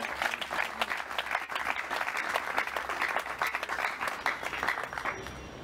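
Sustained, dense applause from a large audience at a Congolese political gathering, loud and steady for several seconds with no pause and a few voices faintly mixed in.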